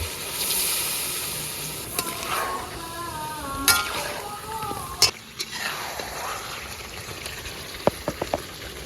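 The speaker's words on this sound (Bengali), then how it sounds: "এখন দিয়ে দেবো ভাজা মঞ্চুরিয়ান সুন্দর করে গ্রেভিটাকে বানিয়ে নেওয়ার জন্য দিয়ে দেবো হালকা পরিমাণে একটু জল" Fried cabbage manchurian and a little water go into a hot pan, sizzling steadily up close while a spoon stirs and knocks against the pan in sharp scattered clinks.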